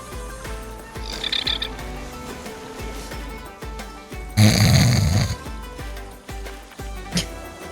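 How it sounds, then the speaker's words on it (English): Dinosaurs in a video game snore in a canyon enclosure, with low rumbling croaky snores repeating over a quiet game soundscape and one loud, long snore in the middle. "Your dinosaurs snore."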